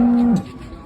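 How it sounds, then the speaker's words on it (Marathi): A cow at a rural cattle market gives one short, low moo up close that breaks off quickly, leaving faint background noise. "हे बघा गाय तुमच्या समोर आहे"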